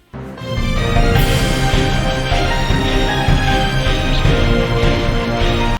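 Dense orchestral video game boss music swells in after a quiet start, with a violin and piano lead over a descending chord progression and heavy low backing, loud and continuous throughout.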